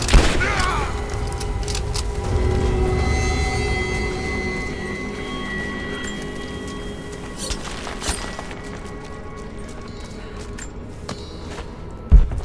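Gunfire in the video game Rise of the Tomb Raider: a loud burst of shots opens the clip, followed by sustained rumbling combat noise and scattered sharp bangs, with a final loud shot at the end.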